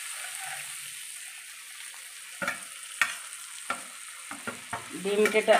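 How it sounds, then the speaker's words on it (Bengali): Fish roe being stir-fried with okra and potato in a pan: a steady sizzle with sharp spatula scrapes and knocks, which grow busier and louder toward the end. "ডিমটা ঢেলে দিয়ে আর 1 মিনিট মতো ভালো করে কষিয়ে নিতে হবে"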